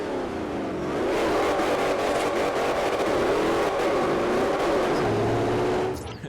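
Ford GT500 engine in Forza Horizon revving hard inside a tunnel, a loud sustained roar with rising and falling pitch sweeps over about six seconds, echoing densely before cutting off near the end.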